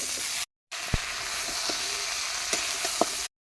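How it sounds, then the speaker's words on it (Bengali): Fish and onion frying in hot oil in a pan give a steady, close sizzle, broken by a few soft clicks of stirring. "ওইদিকে মাছ ভাজা বসিয়ে দিয়েছি, পেঁয়াজ দিয়ে দিয়েছি"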